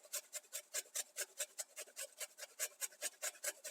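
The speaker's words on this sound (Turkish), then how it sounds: "biz de yıkadığımız, soyduğumuz bir adet havucu güzelce rendeliyoruz" A washed, peeled carrot rubbed on a small fine grater, giving a quick, even series of scratchy rasping strokes, close and fairly quiet, with no talking.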